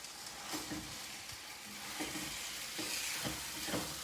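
Steady sizzling of chicken and cherry tomatoes in a hot pan with occasional stirring scrapes, a continuous crackling hiss at moderate level, no voices.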